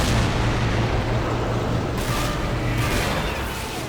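Tank cannons firing in the war game Men of War: Assault Squad 2, a dense, loud battlefield roar of booming shots and rumble that carries on steadily with no talk.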